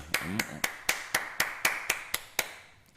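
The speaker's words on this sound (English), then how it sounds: "Let's do a round of applause for my ear hustlers" About nine sharp hand claps ring out close by in a quick, even rhythm for a round of applause, then stop. They sound more like a single pair of hands than a full crowd.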